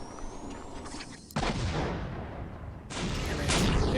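Postal 2 gameplay features a loud blast, a sudden booming burst that rumbles on, then a second heavy roll of explosions rises near the end, with no talk over it.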